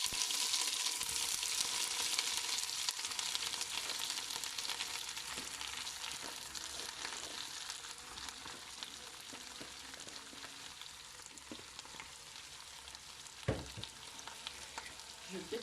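Spinach and cabbage fry in very hot oil for a Congolese dish, a steady broadband sizzle and crackle holding throughout with a faint clink near the end, no one talking.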